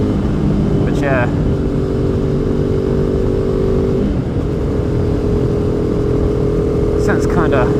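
A 2015 KTM RC390 single-cylinder motorcycle engine drones steadily while riding, a loud continuous mid-pitched hum with wind noise and a voice talking over it.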